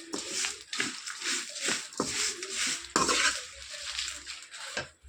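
Tamarind the size of a small lemon and curry leaves roast in a pan, with a spatula scraping and clinking against the metal in irregular strokes over a faint, steady background hiss.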